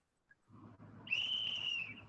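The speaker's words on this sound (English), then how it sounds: "we need to get like a whistle sound effect" A whistle sound effect rises into a sustained, shrill tone lasting about a second, standing out clearly over a low background rumble.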